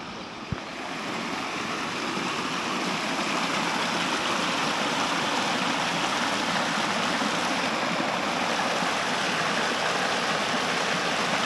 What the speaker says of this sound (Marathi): इकडे एक असा एक छोटासा ओहोळ म्हणता येईल किंवा ओढा म्हणता येईल